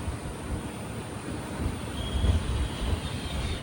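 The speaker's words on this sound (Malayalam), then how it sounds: "11:20 ട്രെയിൻ ഇതാ നാഗർകോവിൽ ജംഗ്ഷനിലേക്ക് എത്തുകയാണ്." The Kanniyakumari–Rameswaram Express rolls into Nagercoil Junction station as a steady, low rumble mixed with wind buffeting the microphone, swelling slightly toward the end, with no voices.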